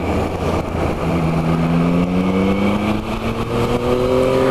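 Yamaha MT-09 motorcycle engine pulling hard under acceleration, a loud close rising drone climbing steadily in pitch over a few seconds, with no voices.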